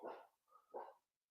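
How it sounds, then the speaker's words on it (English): A dog sounds an alarm at someone passing outside, two close barks with a softer yelp between them, fairly faint and quickly fading into silence. "I know that's not Dan's dog."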